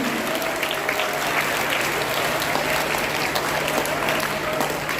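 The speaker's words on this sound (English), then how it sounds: "Let's congratulate all the office bearers with a huge round of applause." Continuous, even applause in a school hall at an oath-taking ceremony for student office bearers, a crowd clapping steadily at moderate loudness with a faint steady hum beneath.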